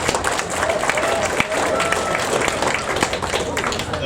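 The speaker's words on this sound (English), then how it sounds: "We give them a round of applause." Audience applauding at a Lions Club 75th anniversary event, steady dense clapping from a room full of people throughout, fairly loud and close with some background voices mixed in.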